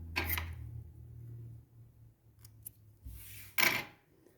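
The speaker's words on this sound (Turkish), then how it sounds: "Son ipimi keseceğim" Scissors snip thread while making Turkish needle lace (iğne oyası): a soft cut near the start, then two sharper, louder snips close by toward the end, with quiet handling in between and no talking.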